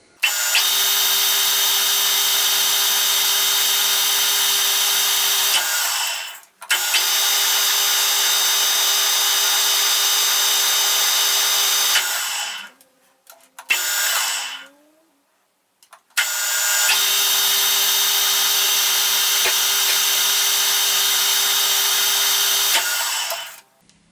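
Metal lathe running while cutting metric threads, a loud steady motor whine in long passes broken by short stops and a brief restart, close and continuous, without talk.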